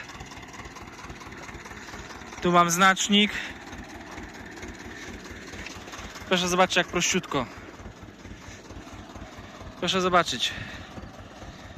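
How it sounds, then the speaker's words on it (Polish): A steady low Ursus C-330 tractor engine idles throughout, driving with GPS guidance in a field, with someone speaking over it in three short bursts. "jak ciągnik elegancko idzie prościutko."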